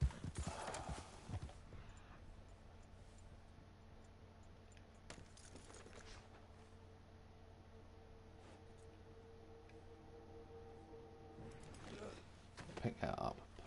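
Horse hooves clip-clop in Red Dead Online, a steady moderate rhythm under game ambience, with voice-like sounds near the start and end.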